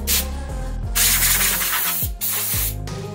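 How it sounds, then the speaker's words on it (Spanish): Brushing and wiping dust off a Sony XS-NW1201 car subwoofer gives close, rough rubbing strokes in several bursts, each with a scraping hiss over a low thumping rumble. "ya lo desempolvé un poco"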